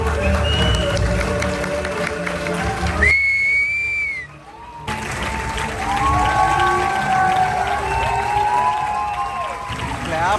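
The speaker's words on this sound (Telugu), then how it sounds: "క్లాప్స్ ఆపట్లేదండి జనాలు, క్లాప్స్ ఆపట్లేదు అసలు." Audience at a Paris screening attended by Rajamouli claps and cheers, with crowd noise, whistles and shouts rising and falling; the din briefly drops away midway before swelling again.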